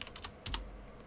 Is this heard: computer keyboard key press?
yes